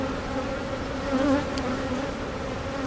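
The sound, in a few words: honey bees buzzing in a beehive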